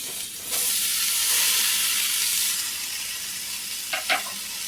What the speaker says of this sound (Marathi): आता त्याच्यामध्ये हे कापून घेतलेले सगळे टोमॅटो आपण टाकून घेऊ